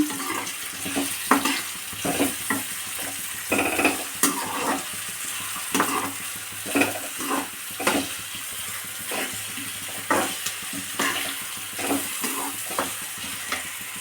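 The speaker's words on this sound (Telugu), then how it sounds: "ఆనియన్స్, పచ్చిమిరపకాయలు వేసేస్తున్నాను. వీటిని దోరగా వేగేదాకా వేయించుకోవాలి బాగా" Onions and green chillies fry in a pan after curry leaves, with a continuous sizzle broken by repeated scraping stirs every second or so, close and moderately loud, with no talk.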